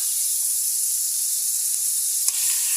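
Steady, loud sizzling of onions, chilies and spice pastes frying in a hot pan, with a faint clink from a utensil near the end.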